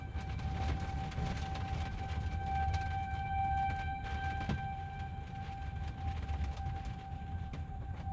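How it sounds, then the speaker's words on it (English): Tornado sirens wail steadily and far off during a storm near a highway, their long tones thin above a constant heavy rumble of wind and road noise. "Got the tornado sirens going off now."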